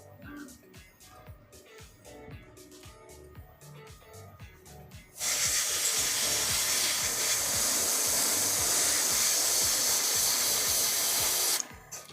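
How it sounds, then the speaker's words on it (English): An airbrush sprays in a steady, loud hiss for several seconds at close range, starting abruptly after quieter background noise and cutting off near the end. "is this airbrush super loud on the audio, guys?"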